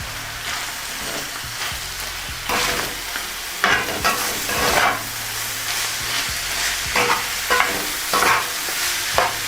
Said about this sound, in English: Here we go, our onions, jalapenos, garlic, some of the spring onions. All go straight in.